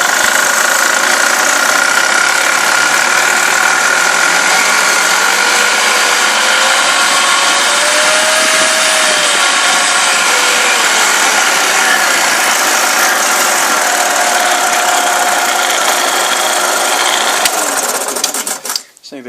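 Shopsmith Mark V woodworking machine motor running steadily and loudly on its own, with a faint pitch sweep as the speed dial is turned, then winding down abruptly at the end.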